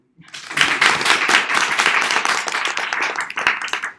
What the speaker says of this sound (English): can we just do a round of applause for